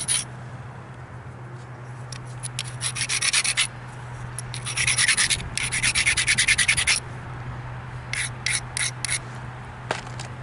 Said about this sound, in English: I'm going to grind. I really want to address that base.